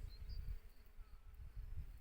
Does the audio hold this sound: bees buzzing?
yes